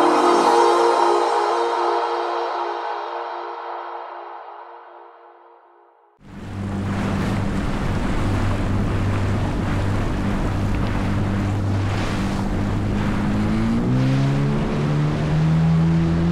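A 15-year-old Yamaha FX personal watercraft riding on a lake, its engine note fading away, then a steady close roar with heavy wind and water rush as the ride continues.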